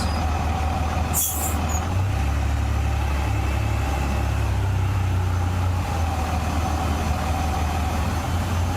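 A simulated truck in the X-Plane 12 flight simulator rumbles with a steady low engine drone throughout, a brief hiss like an air brake release early on, loud and continuous with no talking.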